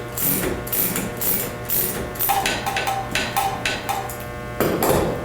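A golf club head being pried off its shaft during repair, heard as close metallic clicks, ratcheting and scraping taps in an irregular cluster over a constant low hum.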